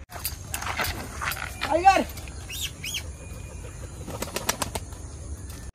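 A pigeon beats its wings in brief, close fluttery bursts, mixed with rustling handling noise and short chirp-like squeaks, while someone talks throughout.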